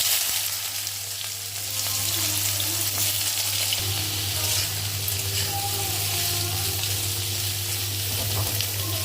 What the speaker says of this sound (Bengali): ঝিঙেটা একটু হালকা আছে ভেজে নেব